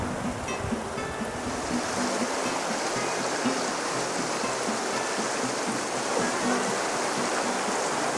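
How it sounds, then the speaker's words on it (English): A fast-flowing trout stream rushes steadily and loudly nearby, a constant broadband roar of churning water with no pauses and no voices. "Fast water."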